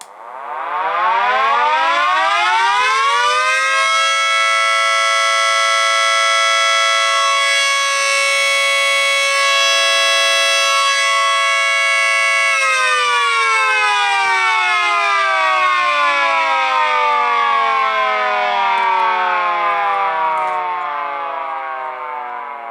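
A mini siren with ball bearings on a test run, winding up to a loud, steady wailing howl, holding its peak for several seconds, then slowly spinning down in pitch. No voices.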